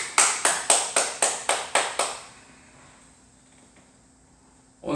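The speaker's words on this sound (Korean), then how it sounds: "우리 하나님께 영광의 박수를 드립니다" At the close of a Korean church worship service, the congregation claps eight sharp, evenly spaced beats in unison, then falls quiet with only a faint hum remaining.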